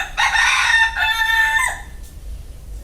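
A rooster crows once, loud and close, in a single drawn-out call lasting under two seconds, followed by low background quiet.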